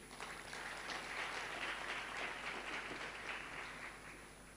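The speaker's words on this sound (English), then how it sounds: "A round of applause, please." Applause from the audience at a ministerial dialogue session of the 2013 SADC conference, clapping swelling up quickly, holding steady and then tapering off near the end, alone and at some distance.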